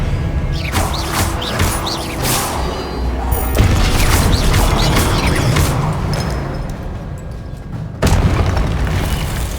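Confringo spell blasts in the Hogwarts Legacy video game, loud booming explosions layered with crackling magical effects and crashes, several bursts in quick succession over continuous game action and music.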